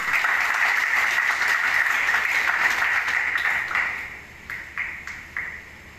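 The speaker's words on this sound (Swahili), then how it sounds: "Tuwapigie makofi." Sustained applause from a crowd at a county climate change action plan launch in Mombasa, steady and full for several seconds before thinning into a few scattered claps at the end.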